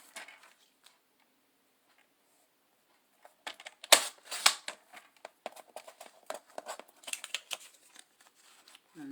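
Scissors snip through Echo Park Halloween scrapbooking paper with a run of close, crisp irregular cuts after a quiet stretch, ending in one brief higher scrape.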